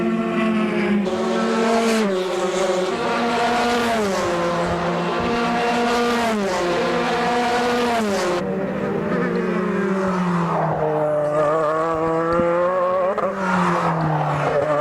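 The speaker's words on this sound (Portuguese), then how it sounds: "Aí passando o carro 2 do Leonardo Cordeiro." A Formula 3 car races past on the Curitiba circuit in 2008, its engine screaming at a high pitch and shifting through gears as it passes close and loud, with no talking over it.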